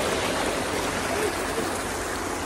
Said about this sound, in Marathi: साईडून पाणी येतं